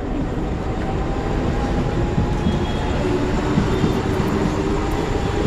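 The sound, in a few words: local train at Charni Road station, Mumbai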